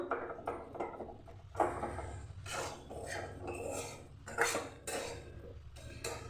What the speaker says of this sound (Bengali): আমি আরও কিছুক্ষণ নাড়িয়ে নেব এই হালুয়াটা আসল হচ্ছে নাড়ানো নাড়ানোটাই হচ্ছে আসল